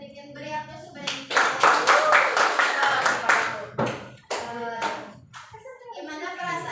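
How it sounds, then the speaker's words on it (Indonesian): Classroom applause for a student after her presentation: a burst of clapping from many hands that runs for about three seconds, mixed with children's voices and chatter before and after. "Beri aplaus kepada Diken"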